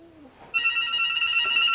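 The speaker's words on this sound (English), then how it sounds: "That phone is ringing." A telephone rings with a rapid trilling bell that starts abruptly after a brief faint voice and keeps going loud and steady.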